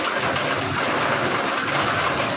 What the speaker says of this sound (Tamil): ஆனால் ரைன் சவுண்டும் கேட்குது